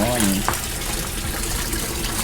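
Water is poured into a guppy tank on a guppy farm, making a loud, steady gush that runs without a break under a brief voice at the start.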